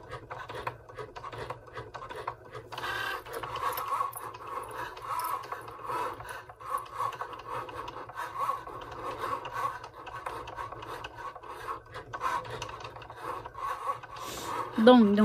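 Cricut Joy cutting machine at work, a soft mechanical whirring with ratcheting clicks and scraping passes that come and go in short bursts, close by, ending with a louder clunk.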